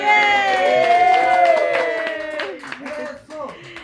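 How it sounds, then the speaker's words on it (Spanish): Guests at a wedding dance clap and cheer, a lively burst of applause and whoops mixed with voices and music that fades toward the end. "Un aplauso."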